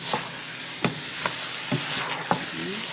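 Collard greens sizzle steadily in a hot pan while being stirred for an African-style dish, with a periodic scrape and clatter roughly every half second over a constant frying hiss.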